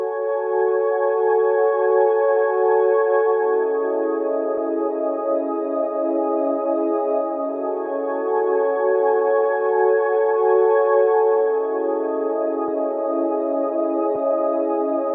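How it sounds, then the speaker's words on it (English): Sustained synth pad from a Deep Space Diva preset, holding smooth chords without melody, one chord change partway through, even and fairly loud with no voices. "I'm using this Deep Space Diva preset, which is just following the chords without the melody"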